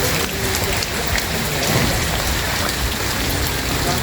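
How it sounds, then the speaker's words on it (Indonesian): Steady rain pours down at an outdoor evening event after an afternoon of drizzle, a dense, loud, continuous hiss of drops on surfaces with no voices. "Acaranya hujan dari sore, gerimis terus"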